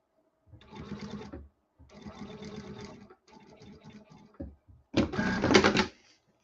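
A home sewing machine stitches a collar for doll clothes in several close bursts of rapid, even needle chatter separated by brief pauses, with a louder final run.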